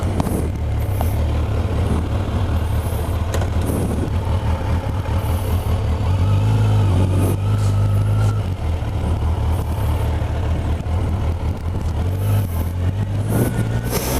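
A sports adventure touring motorcycle being ridden, its engine droning loudly and continuously up close with wind rush and shifts in pitch as it accelerates.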